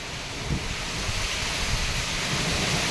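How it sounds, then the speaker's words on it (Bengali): Cyclone Remal lashes the Sundarbans, and heavy rain and wind make a dense, continuous roar with low gusty rumbling for three seconds, with no voices. "প্রচন্ড ঝড় হচ্ছে।"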